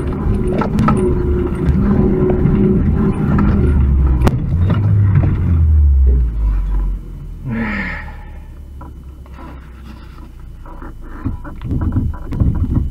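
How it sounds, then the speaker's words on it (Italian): A UAZ gearbox with gears jumping out: a loud, rumbling vehicle drivetrain with shifting engine tones and a brief gasping whoosh midway, continuous and close. "marce che saltano."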